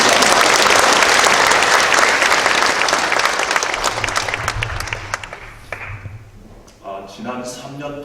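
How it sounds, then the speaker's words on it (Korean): A church congregation at an evangelism seminar bursts into loud applause that gradually fades over several seconds, after which a voice speaks over the last few claps. "서로 박수 한번 드리겠습니다."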